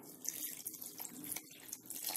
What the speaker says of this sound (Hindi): हमने 1 कप पानी इसमें डाला है और ये खिचड़ी रेडी हो गया।